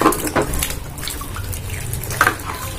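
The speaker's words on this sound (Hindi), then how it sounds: "मैं इनको फिर से साफ पानी में डालूंगी एक बार फिर से वॉश कर लूंगी" Fresh vegetables are swished and rinsed by hand in a tub of clean water, a steady close splashing and dripping with no talk.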